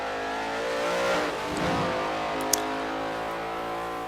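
A car engine races flat out around the Nürburgring in Forza 4, a steady loud droning whine with rising and falling revs and a brief tick, continuous throughout.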